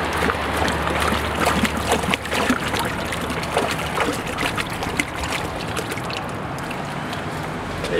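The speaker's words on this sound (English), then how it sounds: "We can see the water is actually coming out of this bag and it's acting as a sieve and trapping the actual resin beads inside." Water draining out through a bag used as a sieve for window-cleaning DI resin beads, a continuous splashy trickle and swishing with scattered drips, fairly close and steady throughout, without talk.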